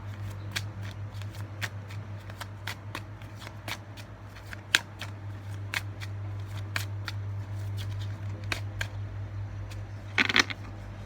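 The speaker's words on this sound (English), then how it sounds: "Not very good at shuffling on camera." Cards from a deck are shuffled by hand in a quiet room, with scattered soft clicks and riffles at an irregular pace and a brief louder flurry near the end, over a low steady hum.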